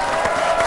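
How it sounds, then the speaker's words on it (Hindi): An audience at a poetry gathering applauds as a poet comes on stage, a dense, steady burst of clapping from a crowd, loud and close, lasting under a second. "जोरदार तालियों के साथ"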